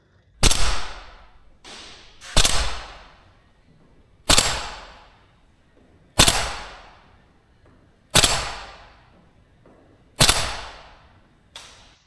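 A VFC AK105 gas blowback airsoft rifle fires single shots at a target, each a sharp, loud crack with a short decaying tail, about every two seconds, with a few fainter pops between and no talking.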